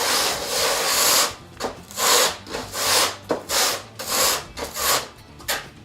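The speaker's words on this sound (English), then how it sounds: "Very important step, often overlooked, but it's called keying in, using that side of the trowel," Flat edge of a tiling trowel keying setting material into the substrate, a series of close, rhythmic scraping strokes, each a short gritty rasp, repeated about eight times.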